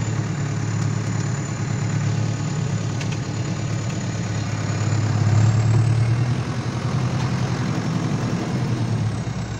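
An Ursus C-385 Turbo tractor engine runs with a steady deep diesel drone during no-till field work, loud and continuous, swelling slightly midway with no voices over it.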